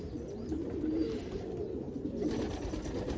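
Pigeons, including colored breeding birds, coo softly amid a dense, steady wash of outdoor ambience, the low murmuring calls blending into the background with no speech.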